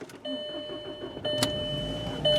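A green 2001 VW Jetta GLS cranks and fires up close by, with a whirring starter followed by a rising engine note and a steady electrical whine as it catches.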